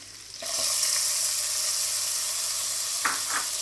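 Ginger, garlic and green chillies drop into hot oil and break into a loud, steady sizzle that holds evenly, with a couple of brief stirring scrapes near the end.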